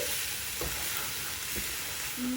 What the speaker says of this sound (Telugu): ఇప్పుడు ఈ మొత్తం కొద్దిగా ఆయిల్ పైకి తేలే వరకు, ఈ ఉల్లిపాయలు రంగు మారే వరకు వేయించుకోవాలి.